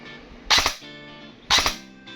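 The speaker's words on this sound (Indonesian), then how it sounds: "Double tap. 1 kali tarik, 2 kali tembak." An airsoft AEG F4 CQB fires two double-tap bursts about a second apart, each a quick, loud pair of sharp snapping shots close to the listener, with quiet between them.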